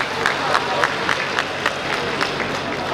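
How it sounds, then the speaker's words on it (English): Brief clapping from a crowd at an outdoor birthday celebration in Entebbe, Uganda, honoring ministers, with sharp claps recurring in a quick, fairly even rhythm over a dense crowd murmur. "Please clap for them."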